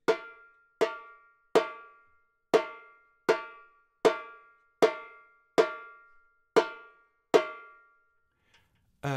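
Repinique drum in a Bloco Afro rhythm, played as clean single notes: ten evenly spaced, sharp ringing strokes with bright metallic overtones, close and loud, each decaying before the next, with no talking.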